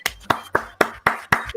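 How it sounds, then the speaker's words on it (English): People in a podcast studio clap in unison, a run of about seven sharp, close, synchronized claps spaced evenly about a quarter second apart, each ringing briefly in the room. "Can we clap at one time?"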